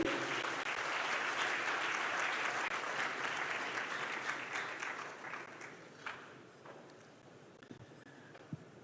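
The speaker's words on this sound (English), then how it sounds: "Please applaud him." Audience applause at a university 75th anniversary launch ceremony, steady dense clapping that gradually thins and fades into a few scattered claps toward the end.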